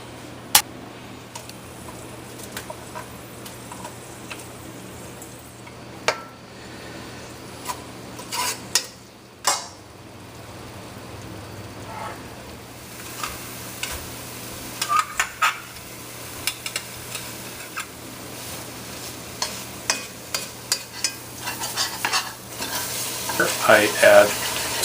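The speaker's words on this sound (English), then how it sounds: "I add some olive oil and start frying my vegetables." Vegetables fry in olive oil in a pan for ragu bolognese, a steady close sizzle broken by scattered clicks and scrapes of stirring utensils, growing busier toward the end.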